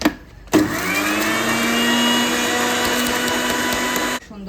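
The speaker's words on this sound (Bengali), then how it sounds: "আগে একটু ব্লেন্ডারে হালকা ব্লেন্ড করে একটু ক্রাশ করে নিই।" Electric blender crushing ingredients for a sharbat drink, a loud steady whirring motor that starts abruptly, runs evenly for about four seconds, then cuts off, with no talk over it.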